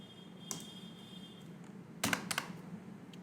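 Keystrokes on a computer keyboard while entering text for a quote in Photoshop: one isolated tap, then a short burst of several quick clicks, fairly faint over a steady low room hum.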